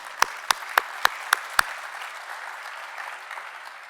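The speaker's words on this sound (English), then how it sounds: "I think you all deserve a round of applause." Applause from a conference audience at an opening general session, starting with several sharp, evenly spaced claps before settling into a steady wash of clapping that fades slightly toward the end.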